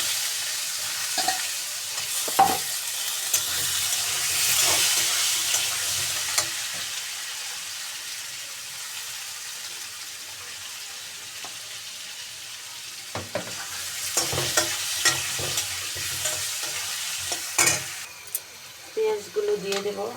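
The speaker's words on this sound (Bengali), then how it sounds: "আমার আলুগুলো ভাজা হয়ে গেছে, আর একটু ভাজা হবে" Potato pieces fry in hot oil with cumin seeds, a continuous sizzle broken by bursts of spatula stirring and scraping against the pan, busier toward the end.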